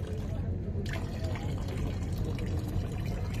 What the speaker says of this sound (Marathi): त्या बॉटलमधलं पाणी बाहेर चाललेलं आहे.